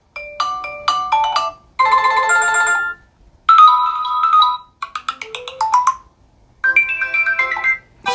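Several short ringtones play loudly one after another from a TCL 50 XL 5G phone's loudspeaker, each a bright chiming melody, with brief silences between them.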